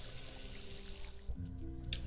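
Steady rushing of running water from a hazard in the video game The Purring Quest, a faint continuous flow with tonal game sounds and a brief bright chime near the end.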